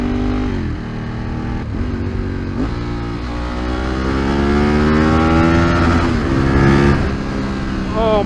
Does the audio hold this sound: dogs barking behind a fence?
no